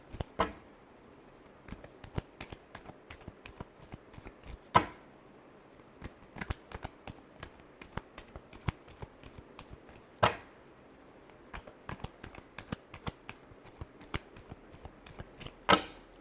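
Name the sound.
shuffling tarot cards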